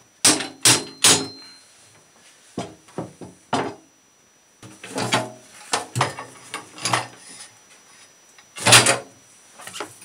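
Wood is struck with a hammer to force a tight-fitting joint in a handcrafted jobsite chair, in irregular clusters of sharp, close knocks and thuds, with short pauses between the bursts.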